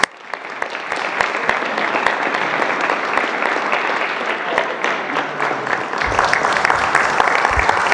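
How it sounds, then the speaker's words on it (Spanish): An audience at a government press conference applauds steadily, a dense patter of clapping sustained for several seconds. "Un aplauso a todo el equipo."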